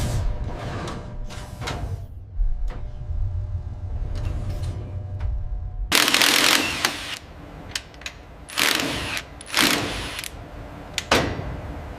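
Fasteners are torqued on a C-130J aircraft pylon in a factory. Metallic ratcheting clicks and tool mechanisms come in bursts of varying loudness, with the louder, denser stretches toward the middle and end.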